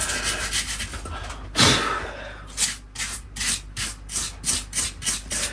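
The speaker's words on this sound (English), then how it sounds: "We're just gonna give it a good scrub." A scrubber works moss off the trunk of an English oak bonsai in a series of close, short rasping strokes, one sharp scrape followed by a regular run of rhythmic brushing passes.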